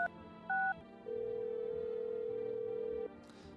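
Telephone in the video game No, I'm Not a Human calling the neighbor: two short electronic beeps, then one long steady ringback tone lasting about two seconds, clear and close with no talking.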